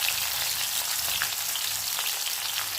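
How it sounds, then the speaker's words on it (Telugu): Small fish fry in hot oil in a pan, giving a steady, close hiss of crackling sizzle with scattered sharp pops and no talking. "వేడెక్కిన తర్వాత ఈ మెత్తళ్ళని దానిలో వేసి వేయించాలి."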